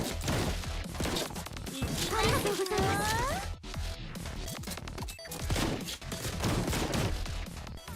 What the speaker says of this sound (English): Water cannon, blammo.